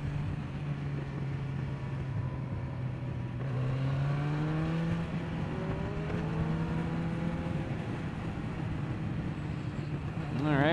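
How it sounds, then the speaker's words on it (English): Yamaha FZ1 motorcycle riding down a street, a steady engine drone with a rising harmonic whine as it accelerates, continuous and close, with wind rush around it. "I think I hear the pipe popping."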